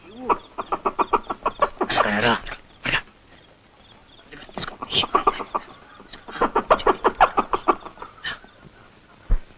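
A hen clucks in quick, repeated bursts and short runs of rhythmic calls, fairly close and clear, with louder squawks at times. The scene comes from a Telugu family drama film, and a voice is mixed in at moments.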